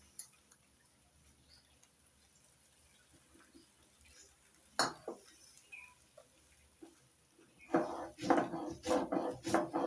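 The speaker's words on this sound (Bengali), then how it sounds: "এবার আতপ চালগুলো শিলনোড়া বেটে নেব" Soaked Gobindobhog rice ground on a shil-nora grinding stone: after a mostly quiet stretch with one isolated knock, a run of rhythmic scraping strokes builds loudly near the end.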